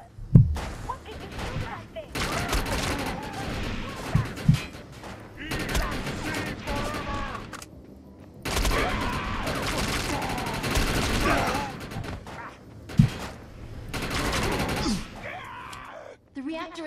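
Video game gunfire in the MMO Defiance: bursts of rapid shots and fusillades with sharp loud cracks, broken by short gaps, mixed with game effects and occasional voices over about seventeen seconds.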